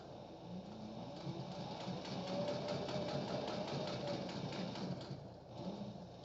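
A sewing machine backstitching through a leather apron runs in a steady, fast mechanical chatter, loud and close, with a brief dip near the end before picking up again.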